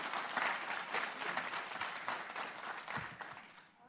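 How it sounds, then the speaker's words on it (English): An audience gives a panel a round of applause in a conference room, dense steady clapping from many people that stays fairly even and eases off at the close. "Can we all give them a great round of applause?"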